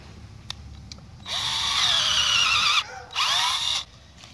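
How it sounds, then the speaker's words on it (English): Cordless power drill boring a hole into a white ash tree trunk, a close whining bore in two bursts, the longer first followed by a brief pause and a shorter second run. "So I'm gonna go ahead and drill the first one in here."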